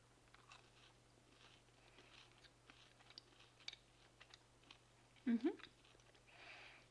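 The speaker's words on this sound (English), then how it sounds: "I don't think I ever had cereal this crunchy in a cereal bar." Someone chewing a crunchy cranberry cereal bar from a Norwegian Arctic field ration, soft scattered crunches followed by a louder close bite near the end, with faint voice sounds.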